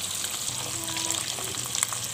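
Baby squid frying in a pan for sambal goreng, a steady dense sizzle and crackle of hot oil running throughout with small stirring clicks, close and fairly loud, no talking.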